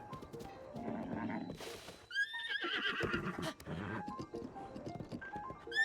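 A horse whinnies loudly several times in Zelda: Breath of the Wild over a busy, layered game soundscape, with muffled hoofbeats and rustling throughout.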